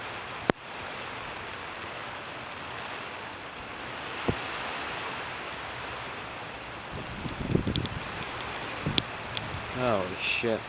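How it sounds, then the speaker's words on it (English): Rain mixed with sleet and graupel falls during a November wind storm, a dense steady hiss of precipitation with wind rumble, brief sharp knocks, and rising pattering toward the end. "Graupel / sleet mixed in."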